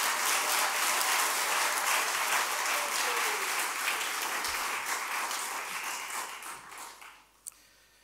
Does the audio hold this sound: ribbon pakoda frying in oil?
no